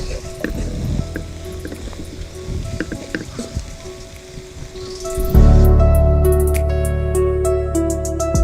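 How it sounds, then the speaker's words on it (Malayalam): Tomato sauce is poured into a pan of soya egg fry roast and stirred in. Light wet dripping and scraping give way to a loud, sustained sizzle as the sauce hits the hot pan. "ഇനി അല്പം ടൊമാറ്റോ സോസും കൂടെ ഒഴിച്ചു കൊടുത്താൽ നമുക്ക് നന്നായിട്ടൊന്ന് മിക്സ് ചെയ്യാം."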